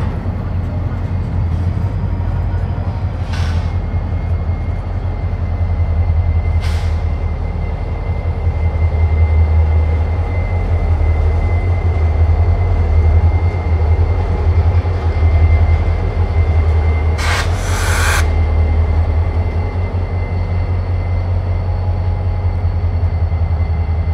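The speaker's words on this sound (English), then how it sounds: "Powering the train is a pair of consecutively numbered SD40-3s, both rebuilt from SD40-2s in the latter half of 2012" CSX freight train led by a pair of SD40-3 locomotives rolling past, a steady low rumble of engines and wheels holding throughout, with a few sharp high squeals and clanks near the end.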